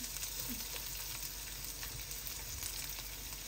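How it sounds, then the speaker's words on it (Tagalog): Onions frying in a pan give a steady, close sizzle with faint crackles and pops throughout, with no voices. "So the onions, we'll see the onions like it's popping. Hear the sound? Popping."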